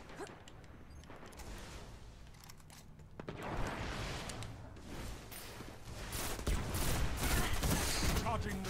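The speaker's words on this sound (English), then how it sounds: "This pulse rifle shoots too slow, though." Pulse rifle fire in the video game Destiny, a steady wash of rapid shots and impacts that grows louder and denser toward the end, under background voices.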